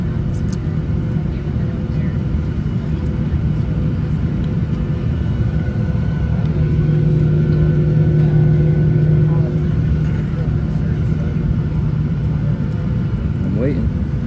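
Passenger airplane taking off on a first flight, a steady loud cabin rumble with engine drone that swells through the middle and holds throughout, heard from inside the cabin.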